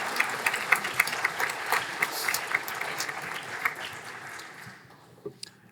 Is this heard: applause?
yes